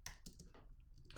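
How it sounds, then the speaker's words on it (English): Rapid clicking of computer keys as someone types on a keyboard, a quick irregular run of close, crisp taps heard alone with no talking. "I'm not reading when I'm typing."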